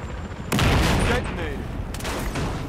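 A demolition charge detonates in Battlefield with a sudden loud blast that decays into rumbling debris, a second burst follows later, and combat noise and voices continue underneath.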